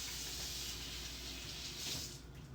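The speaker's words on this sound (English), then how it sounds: "while I wash my hands really quick" Hands being rinsed under a running kitchen tap, a steady close hiss of flowing water and splashing that continues unbroken and eases slightly near the end, with no voices.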